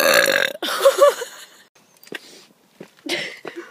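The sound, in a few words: burp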